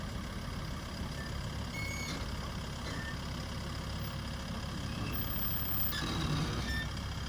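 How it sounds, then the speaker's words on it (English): Ryan's truck idles and creeps on Ripiro Beach near Pouto, a steady engine drone with faint intermittent beeps over continuous surf-like wash, no talk. "we're just getting Ryan's truck moved up a bit further"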